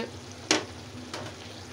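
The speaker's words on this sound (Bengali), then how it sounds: "পানিটা শুকিয়ে নিব, ভালো মতো ভাজা ভাজা করে নিব।" Chicken and cabbage curry frying in a pan, a faint low sizzle broken by two brief scraping strokes of stirring.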